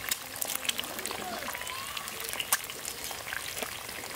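Eggs frying in hot oil give off a steady, close crackling sizzle with scattered pops, running continuously beneath a voice speaking.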